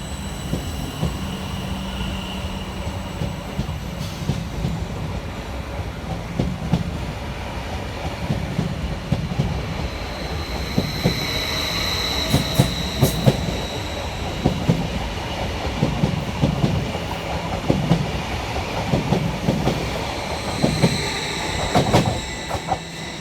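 A Greater Anglia Class 745 electric train pulls away from Seven Sisters station in London, a steady rumble of wheels with rhythmic clickety-clack over rail joints and a brief high squeal, loud and continuous throughout without voices.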